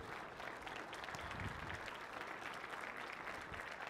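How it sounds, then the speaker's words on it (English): Steady round of audience applause from a church congregation on a Mother's Day morning service, dense even clapping throughout at moderate volume with no talk over it. "Can we just give our moms a round of applause as well this morning?"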